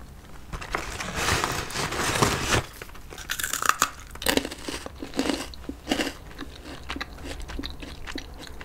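Close, loud crunching and chewing of dehydrated mango, with repeated crisp bites and crackly munching that keep going for several seconds and settle into softer chews toward the end, with no voice over them.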